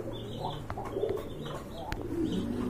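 A pair of silver-coloured Sirazi pigeons coo in low repeated phrases at close range, steady against a busy market-like background.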